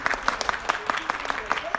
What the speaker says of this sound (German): Vielleicht auch einen kleinen Applaus.